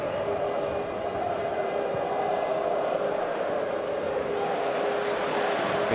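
A large football crowd at the Riverside stadium in Middlesbrough during a European night, a steady dense roar of many voices filling the space with a commentator's voice over it.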